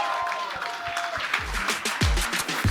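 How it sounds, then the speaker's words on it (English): A comedy show audience claps and cheers as a comedian is introduced, a short burst of scattered applause with a few louder thumps, lively and close. "Ladies and gentlemen, clap it up for Valerie Vaughn."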